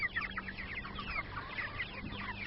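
Young backyard chickens cluck and chirp softly in a steady, overlapping chatter, with a low hum of the surroundings beneath.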